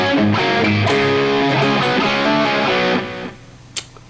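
Distorted electric guitar playing the second half of a riff, a crunchy picked and pulled-off line for about three seconds, close and loud, then a quick fade and a small pick click.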